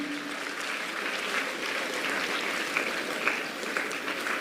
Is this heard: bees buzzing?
no